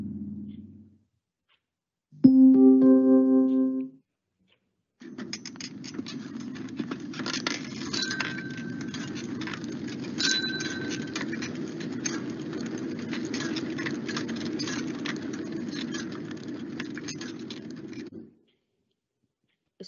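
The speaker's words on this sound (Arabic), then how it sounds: "ده صوت العجلة وجرس العجلة" A bicycle rolls along with a steady patter of wheels and chain, while a bell rings with bright metallic tones near the start and again partway through the ride.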